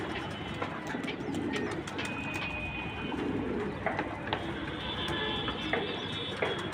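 Pigeons in a loft coo softly and steadily as they come down to feed, with soft wing flutters and faint chirps against a continuous background hum.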